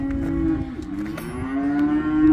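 Cattle on a farm lowing in one long, drawn-out moo that wavers in pitch and stays loud and close for the whole stretch, with no talk over it.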